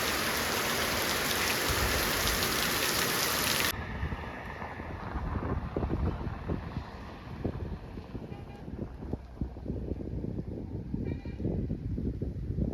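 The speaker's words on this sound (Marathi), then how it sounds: "इकडून येत आहे पाऊस" Monsoon rain pours down in a Konkan village, a dense steady hiss for the first few seconds, then easing into a patter of scattered drops with wind buffeting the microphone.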